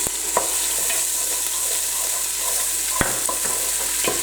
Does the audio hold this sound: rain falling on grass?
no